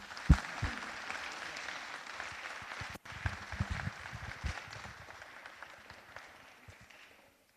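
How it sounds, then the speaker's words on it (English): Sustained applause from an audience at a council meeting honoring a sports team, a dense wash of clapping that starts strong and gradually thins and fades away. "Let's give this team a round of applause."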